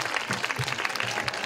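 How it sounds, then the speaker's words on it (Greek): Warm applause from an audience at a Pontic folk festival in Lefkada, a dense steady patter of many clapping hands filling the whole moment at moderate volume, with no talk over it. "ένα θερμό χειροκρότημα"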